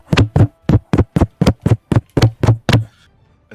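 Repeated knocking on a door, about a dozen sharp raps at a steady, insistent pace, loud and close with no voices, then stopping.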